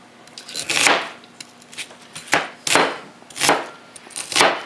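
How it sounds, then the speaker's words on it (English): A knife chops an onion into pieces on a board for onion eggs, with about six sharp, close chopping bursts in an uneven rhythm and no talking. "And just chop it up into manageable, eatable pieces."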